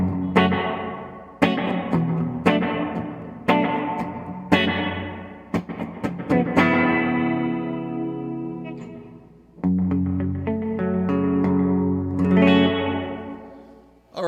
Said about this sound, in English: while I have a nice room reverb sound